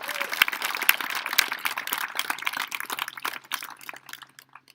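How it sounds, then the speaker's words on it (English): Applause rings out at an 8th grade graduation, a sustained crowd of many hands clapping that gradually thins and fades toward the end. "So you should all deserve a round of applause"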